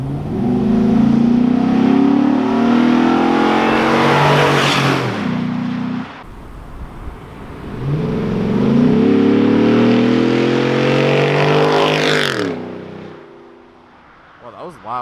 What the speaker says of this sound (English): when the exhaust was pointed straight at me, it was loud.